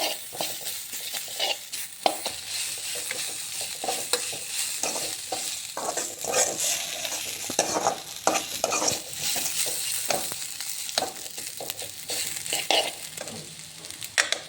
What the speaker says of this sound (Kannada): ಅದಾದಮೇಲೆ ನಾನಿಲ್ಲಿ ಸ್ವಲ್ಪ ಶುಂಠಿ ಪೇಸ್ಟ್ ಹಾಕ್ತೀನಿ